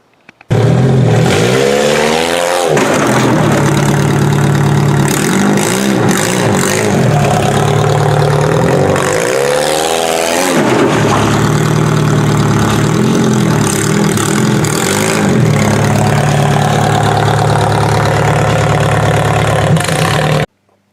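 A 1999 Toyota Solara demolition derby car idles loud and close for about twenty seconds, its rough engine note rising in a few brief revs before settling back.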